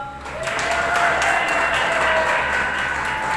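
A crowd at a college commencement applauds steadily and fairly loudly, a dense wash of clapping sustained for a few seconds.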